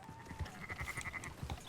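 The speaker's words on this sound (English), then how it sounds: "Marston, why don't you leave the sheep to me?" Sheep in the Red Dead Redemption II video game give a faint, wavering bleat over a low, rhythmic trampling of hooves, the whole scene quiet and somewhat distant.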